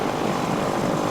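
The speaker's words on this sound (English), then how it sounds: "Sounds like straight pipe. No exhaust system working there to" Motorcycle running a straight pipe exhaust with no muffler makes a brief, loud, rough drone passing close by, with no voices.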